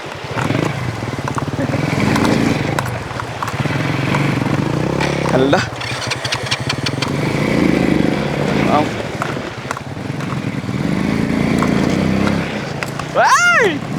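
Motorcycle crossing a river, its engine revving and labouring loudly through the water with splashing, while people shout and talk excitedly over it.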